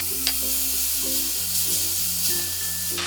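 Melted jaggery syrup is stirred into a sweet Kerala kozhukatta filling in a hot pan, making a steady low sizzle and scraping while music plays underneath.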